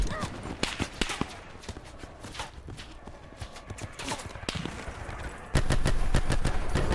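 Gunfire from a Black Ops 4 beta multiplayer match, with sharp shots rattling through a busy mix that grows louder and denser near the end; no speech.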